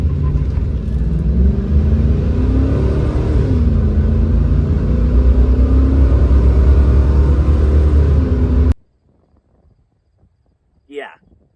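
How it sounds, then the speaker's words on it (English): Chevy cat-eye pickup truck with a 496 big block engine accelerating, a loud, close, continuous rumbling roar for about nine seconds that cuts off abruptly, followed by near silence and a brief faint tone. "with this truck having a 496 Chevy big block in it and an almost 10-second 0 to 60"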